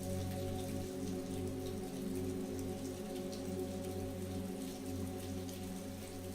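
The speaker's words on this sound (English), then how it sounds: "As the rain continued to fall outside" Steady rain falls outside a cozy library, a constant soft hiss with a low hum running beneath it, even and unbroken throughout.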